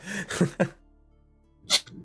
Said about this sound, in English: Just one of the voices just sneezed.